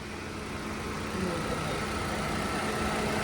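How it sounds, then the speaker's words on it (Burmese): A 2011 Chevrolet Spark's engine idles in a steady, even hum with broadband noise, heard close and continuous and with no talking. "အင်ဂျင်ကောင်းလားအင်ဂျင်ဘယ်လိုနေလဲ"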